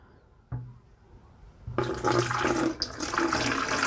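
Homemade deer repellent liquid pours into a garden sprayer with a steady, close splashing rush that starts partway through after a brief knock, continuing loudly to the end.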